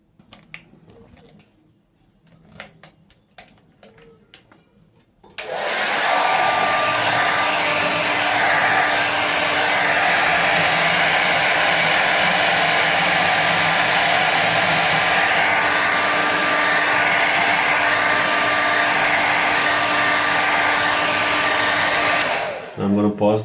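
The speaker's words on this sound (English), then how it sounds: "using the hair dryer, I'm going to blow hot air on the entire panel from the outside" A hair dryer blows hot air across the outside of a washing machine panel, a loud, steady rushing whoosh that switches on abruptly after a few quiet seconds of small handling noises and runs continuously until cut off near the end.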